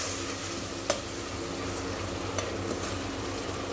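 Dalia porridge with garam masala and spices cooks in a pan, a soft continuous sizzle with a couple of sharp clicks from stirring against the pan.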